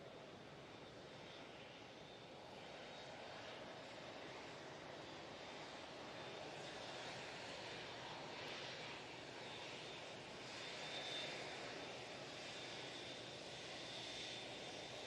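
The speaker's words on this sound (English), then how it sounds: "mighty Emirates A380 is all lined up," An Emirates Airbus A380-800 holds lined up at Manchester Airport, its jet engines giving a faint, continuous far-off rumble and hiss with no talking.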